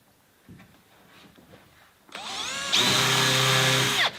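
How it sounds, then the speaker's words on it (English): A power drill bores holes through a wooden door jamb for a garden shed door, starting with quiet handling noises before the motor whines up loudly and holds a steady, high-pitched drilling tone to the end. "I'm basically just going to drill some holes just to go through from one side"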